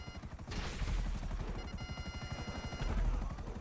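Helicopter in the video game GTA Online firing rockets, with a steady rapid rotor chop throughout and bursts of launches and explosions layered over it, loud and continuous.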